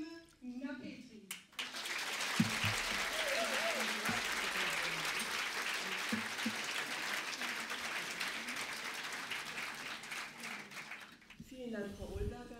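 Audience applause greeting author Cody McFadyen and his German voice, actress Nina Petri, at a crime-fiction reading event: sustained dense clapping from a full hall, steady for about ten seconds before fading out.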